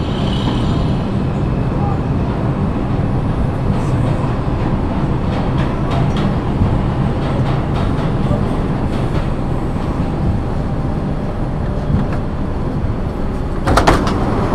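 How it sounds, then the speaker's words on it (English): A New York City subway 5 express train at Grand Central station rumbles loudly and steadily on the platform, with rail noise, door sounds and a sharp burst near the end. "This is a Brooklyn-bound 5 express train."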